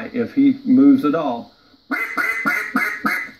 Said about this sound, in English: just hitting with a 3 to 5, 6, 7 note greeting call